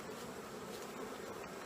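Honey bees buzz continuously around a hive frame of hatching drone brood, a faint, steady droning hum with no pauses.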